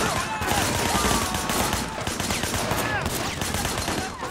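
Gunfire in the open-world action game Sleeping Dogs crackles almost without pause as a loud, dense fusillade, with a voice faintly under the shooting.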